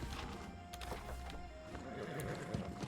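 Horse mount in the video game New World, being ridden, with soft rhythmic hoof clip-clops and a faint neigh, quiet and close.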